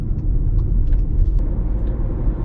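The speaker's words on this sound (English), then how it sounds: "it also makes the engine louder" Car engine droning loudly in sport mode, a steady low rumble heard close from the cabin with a few faint ticks above it, no talking.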